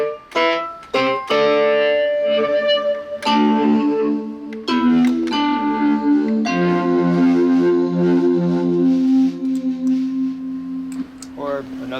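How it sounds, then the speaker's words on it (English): Electric vibraphone run through a distortion effect, a sequence of struck notes and chords with gritty, buzzing sustain, played loud and close with brief gaps between phrases. "This gives me distortion, which I use a lot."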